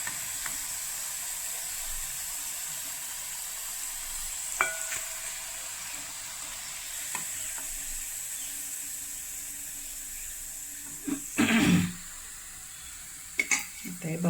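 Medu vada frying in hot oil give a soft, steady sizzle and hiss. Utensils clink and scrape near the end.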